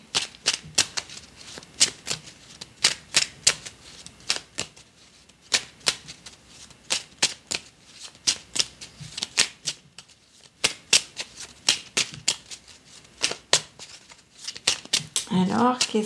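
A deck of tarot cards is shuffled over and over, sharp rhythmic riffling slaps that repeat steadily and close up, with a voice joining briefly at the end.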